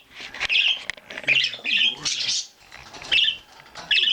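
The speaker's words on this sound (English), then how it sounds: "How are we doing, budgies? Get some background chirping," Pet budgies chirp and chatter in quick, bright bursts close by, with short pauses between the flurries of squeaky calls.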